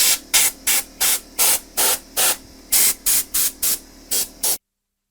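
Compressed air blows out the open pores of an ash wood bowl in about a dozen short, loud hissing bursts in a quick, even rhythm, followed by silence.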